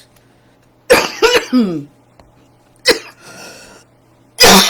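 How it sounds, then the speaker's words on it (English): Several harsh coughs close to the microphone, two quick bursts, then a rough throat-clearing cough and another sharp one, with quiet gaps between. "going out with a cough"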